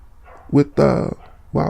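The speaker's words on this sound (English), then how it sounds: "dogs barking. And they're going ham out there." Dogs bark outdoors in a few loud bursts, with a voice talking over and between the barks.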